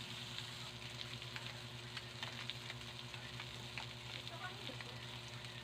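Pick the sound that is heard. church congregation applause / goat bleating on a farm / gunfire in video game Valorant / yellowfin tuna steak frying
yellowfin tuna steak frying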